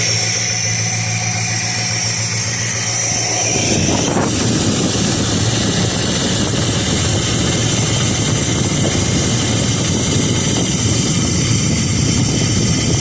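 A 1969 Dodge Dart, started after six months of sitting on old ethanol gas, runs with its choke unhooked. It is quiet at first, then the engine suddenly roars to a loud, rough, steady idle close by, with wind buffeting the microphone.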